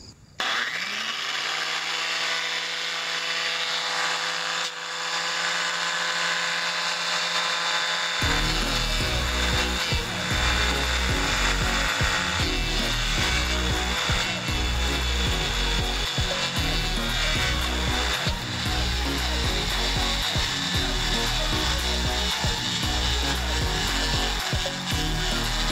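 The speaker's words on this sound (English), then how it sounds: "Let's grind this fiberglass." A power grinder works on fiberglass aboard a sailboat: a tonal whine first spins up, then a loud, continuous, gritty grinding roar fills the rest, close and steady with no talk.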